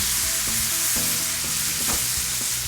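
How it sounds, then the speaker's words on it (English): White wine poured into a hot pan holding fried yellowtail snapper sets off a loud, steady, broadband sizzle that carries on for the whole stretch, with a brief louder burst near the end and no voices. "then deglaze the fish and the pan with some white wine"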